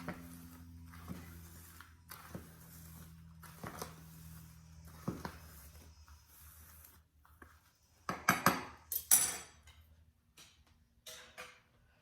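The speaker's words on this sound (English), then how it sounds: "Now I'm going to take my butter knife and sort of stir it up to get the coarser cactus mix with the regular potting mix." A butter knife stirs coarse cactus mix into regular potting mix in a pot while a jade plant is repotted, giving irregular soft scrapes and gritty rustles that build to a few louder, sharper scraping bursts near the end.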